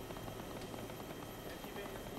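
Helicopters hover and idle in an Arma mission, a continuous rotor drone with rhythmic thumping that holds steady throughout at moderate distance.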